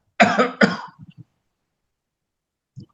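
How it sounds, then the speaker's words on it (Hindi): A man coughs twice in quick succession, close and sharp, followed by a few small throat sounds and then quiet. "मुझे थोड़ी सी खांसी की तकलीफ होती है"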